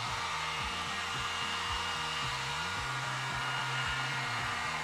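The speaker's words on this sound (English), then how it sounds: "take a heat gun or hair dryer and just go around the edges of the display" A heat gun or hair dryer runs steadily on its high setting while warming the edges of a 27-inch iMac display, a constant close whooshing roar with faint shifting hum beneath, no voices.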